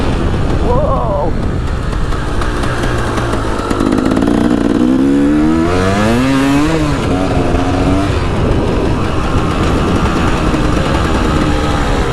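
Dirt bike lapping a flat track at Ulu Choh dirt park, its engine droning loud and close with rising and falling revs as it works the circuit, while a rider talks over it.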